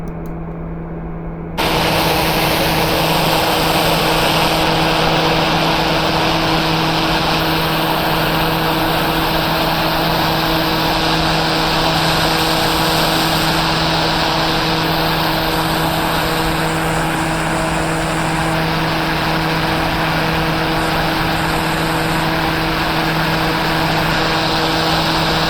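A steady, loud engine roar with a constant droning hum from an aircraft in the X-Plane 11 flight simulator, the tone shifting slightly over the long flyby.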